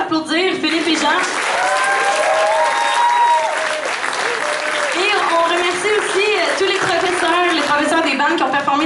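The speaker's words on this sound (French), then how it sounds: "Donc on peut les applaudir, Philippe et Jean." An audience at a concert paying tribute to 1970s progressive music applauds the evening's bands with loud, sustained clapping and cheering, while a voice speaks over the ovation throughout.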